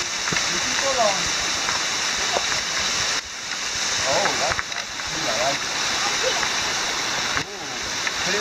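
The steady, rushing roar of a waterfall at Kings Canyon fills the scene, a constant broadband wash with people talking nearby over it.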